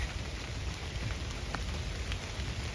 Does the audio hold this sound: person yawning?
no